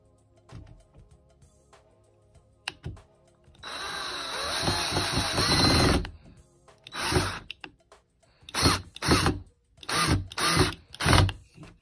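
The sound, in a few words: power drill drilling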